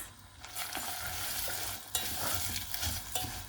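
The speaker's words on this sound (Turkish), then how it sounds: "Şimdi tel, şehri, tel şehriyelerimizi de döküp ona da kavuracağız." Thin vermicelli noodles toast in tomato paste in a pot, a steady close sizzle broken by scraping stirs of a spoon, with a sharper scrape near the middle and no talking.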